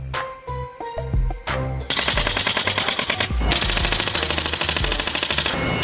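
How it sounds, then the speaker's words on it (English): An automatic stapler fires staples in a fast, loud, rapid-fire clatter, with a few separate snaps at first, then a continuous stream of sharp repeated shots that keeps going to the end. "See how quickly and smoothly those staples go in no fuss."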